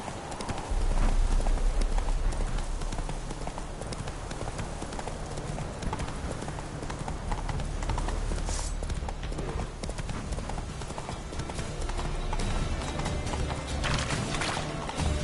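Roach, the horse in The Witcher 3, gallops in a steady rapid clip-clop of hooves that runs the whole stretch, with faint game ambience behind.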